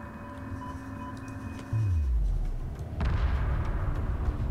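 Heavy weapons fire booms through a space battle in Homeworld 2, a deep descending rumble and dense explosive crackle swelling midway and staying loud under a steady game hum.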